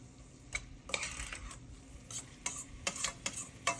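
Chicken taco mixture is stirred in a pan, with a spoon scraping and clinking against the metal in irregular strokes over a low sizzle, close and fairly quiet, without speech.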